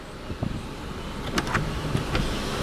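A power moonroof on a 2010 Kia Forte Koup glides open with a soft electric-motor whir, marked by a few light clicks and mechanical knocks, close and fairly quiet, with no voices.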